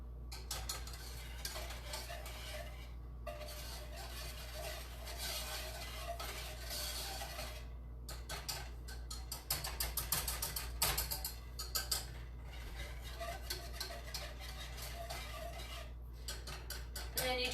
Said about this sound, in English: you just want to keep cooking this until it dries up